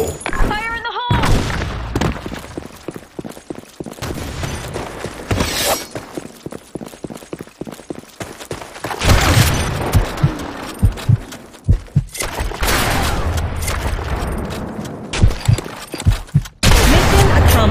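Video game combat with a grenade blast and bursts of gunfire, loud sharp impacts and rattling shots hitting through the whole clip, with a shouted voice near the start.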